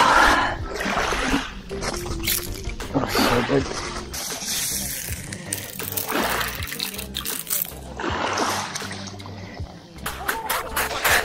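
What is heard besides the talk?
hand splashing in sea water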